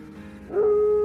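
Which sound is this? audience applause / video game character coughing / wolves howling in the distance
wolves howling in the distance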